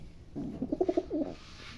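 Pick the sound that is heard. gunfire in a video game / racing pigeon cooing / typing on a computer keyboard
racing pigeon cooing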